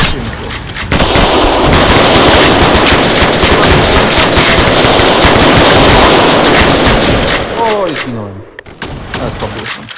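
Combat in a war video game: dense, continuous rapid gunfire and machine-gun bursts with blasts layered over each other, loud and close, tapering near the end, while someone talks excitedly over it.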